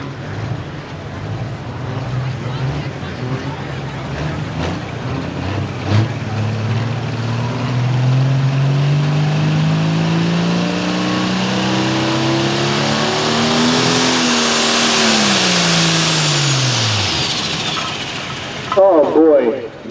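A pulling tractor at a Selinsgrove tractor pull strains under load with a loud, deep roar that climbs in pitch, holds, then falls away as the run falters, with a rising whine overhead and announcer talk underneath.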